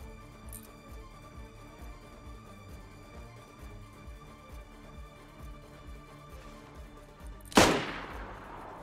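A single sharp Mosin rifle shot cracks out near the end of a DayZ match, loud and close with a long fading tail, after a steady low rumble of game ambience.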